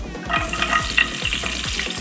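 Cashew nuts sizzle and crackle steadily in hot ghee with a spoon stirring through them, a close, continuous frying sound for tender coconut payasam.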